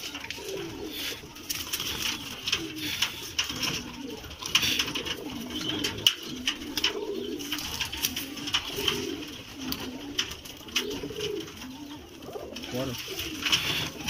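A male Kalangkar Madrasi pigeon gives repeated throaty coos in a steady rhythm close to the microphone, with busy background noise and other birds around.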